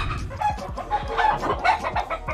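Chickens cluck close by in a farm pen, short repeated clucks and squawks overlapping in quick succession, loud and busy over a couple of seconds with no talking.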